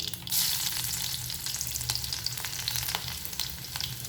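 Hot oil sizzles and crackles continuously at close range as shallots are added after mustard seeds, with scattered sharp pops and a burst of spitting early on.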